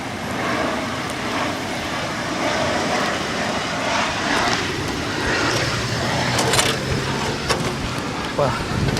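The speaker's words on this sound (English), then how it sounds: "Ooh, an airplane." A fixed-wing airplane passes overhead during rain on a roof, its broad engine rumble steady and moderately loud through the whole stretch, mixed with patter and occasional close handling noises.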